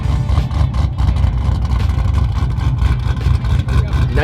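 A nitrous-fed 650-horsepower hot rod engine runs close and loud, a dense, steady low rumble with a rough, pulsing idle texture throughout, no talk heard.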